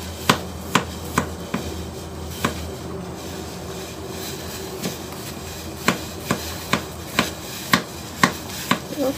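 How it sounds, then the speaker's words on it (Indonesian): A knife chops ingredients thinly for a sweet corn salad, sharp evenly paced blade strikes on a cutting board, near and distinct, with a short pause midway. "Kemudian kita potong-potong ya. Potong-potong tipis."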